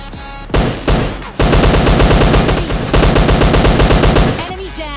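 Rapid automatic gunfire in the mobile shooter game PUBG Mobile Lite, loud, close bursts of rattling shots that run almost without pause after a couple of short opening bursts.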